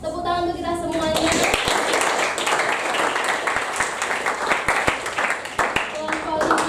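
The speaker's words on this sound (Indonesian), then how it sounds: "Tepuk tangan untuk kita semuanya" Classroom applause breaks out for a presenting student group, a dense patter of clapping hands that swells and then thins, with a teacher's voice talking over it near the end.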